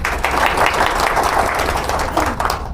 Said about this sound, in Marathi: सगळ्यासाठी जोरदार टाळ्या